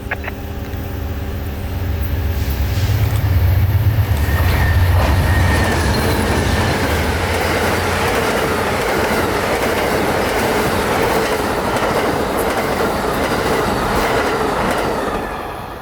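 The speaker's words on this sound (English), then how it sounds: "Amtrak number 91's inward and outward trips from Tampa, headed eventually to Miami." Amtrak number 91 passenger train passes close by in Central Florida, a loud, sustained rush of rolling cars with rhythmic clickety-clack and faint wheel squeal, holding steady for the whole pass before easing off.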